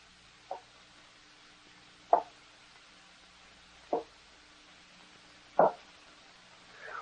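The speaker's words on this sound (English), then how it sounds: "The sound of something moving in the attic." In a radio drama, something moving in an attic makes four soft, muffled knocks spaced a couple of seconds apart over a quiet, hushed background.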